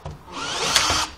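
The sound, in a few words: power drill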